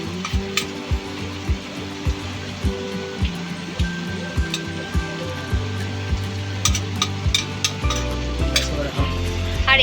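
Fried onions are being lifted from hot oil for chicken biryani, with a constant sizzle under repeated sharp clinks and scrapes of a metal spoon against the pan, all close and busy.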